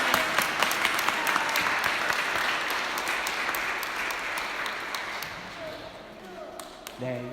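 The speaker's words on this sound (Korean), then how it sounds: "우리 친구들 들어갈 때 큰 박수로 격려해 주시면 좋겠습니다." Church congregation applauding during a Sunday service as children head out, dense clapping that slowly thins and fades, with a few voices and light sounds near the end.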